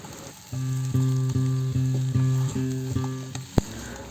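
Pieces of potato and taro frying in a pan for a village fish curry, loud continuous sizzling broken by a regular series of stirring knocks and a sharp clank near the end.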